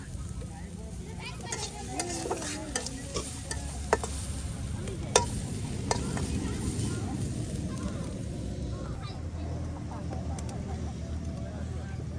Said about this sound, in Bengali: পেঁয়াজ রসুনগুলি আপনার চুলায় সুন্দর করে একদম ভাজা ভাজা করে নেওয়া হচ্ছে